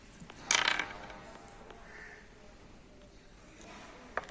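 Metal clanks and ratcheting from a grinding machine as its cover bolts are loosened to reach the bearing, one loud clatter early, then quiet handling and a sharp tap near the end.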